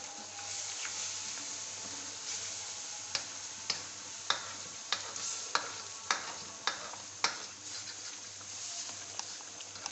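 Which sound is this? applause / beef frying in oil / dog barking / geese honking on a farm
beef frying in oil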